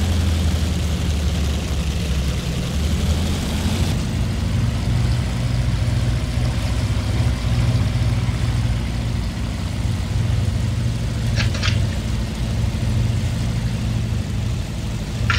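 A Corsair warbird taxis slowly at Sarlat-Domme airfield, its piston engine giving a loud, steady low drone and rumble that holds throughout with a slight shift in tone partway through.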